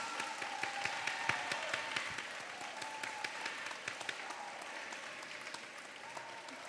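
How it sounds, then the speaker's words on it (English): A crowd claps steadily at a high school class day ceremony, a dense, even wash of applause from many hands at moderate distance, continuing without voices. "Let's give them a round of applause."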